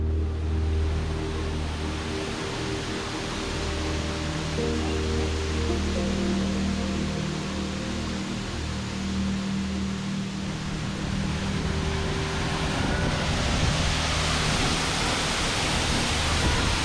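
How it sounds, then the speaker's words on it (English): Millard Falls, a waterfall of about 60 feet in the Angeles National Forest, pours in a steady, dense roar of rushing water, heard from its base without pause. "Standing at the base of Millard Falls, and it looks like it's about a 60-foot waterfall."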